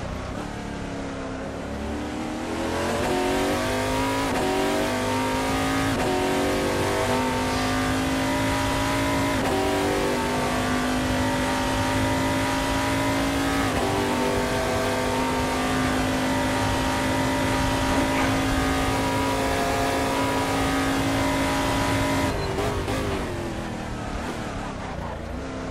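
Oreca FLM09 race car engine in the Assetto Corsa game at Interlagos, with a loud, sustained high-pitched drone that rises and falls through gear changes and speed shifts across the whole stretch.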